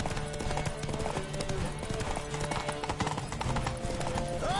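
Hooves of the mare Roach pound in a rapid, steady gallop in The Witcher 3 Wild Hunt, loud and close, with a brief whinny at the end.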